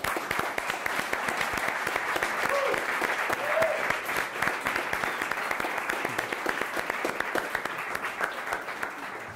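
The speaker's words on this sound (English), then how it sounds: "I would like for a round of applause for the students," A room full of people at a coding bootcamp student demo applauds steadily, dense clapping holding at an even level throughout.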